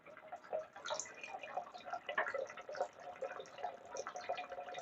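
Filtered water runs from a kitchen faucet into a pot, making a continuous, faint splashing and trickling throughout.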